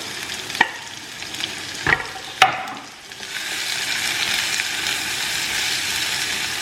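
Finely chopped large onion sautéing in a hot pan, opening with three sharp clacks of a spoon against the pan before a steady close sizzle settles in, no voices.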